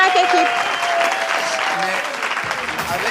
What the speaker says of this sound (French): on applaudit les candidats dans chaque équipe.